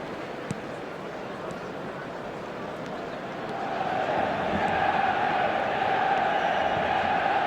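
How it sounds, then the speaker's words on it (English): Stadium crowd in the PES26 football video game swelling into a loud, sustained roar after a near miss, a steady broad wash of voices that builds midway and holds to the end, no commentary over it. "The crowd reaction tells you just how close that was."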